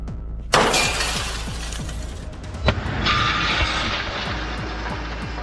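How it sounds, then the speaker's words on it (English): A burglary-resistant triple insulating pane of tempered safety glass is smashed, giving a loud sudden shatter followed by seconds of tinkling, crackling fragments and a second sharp crack midway, close and with no talking. "You see, wherever I break this tempered safety glass,"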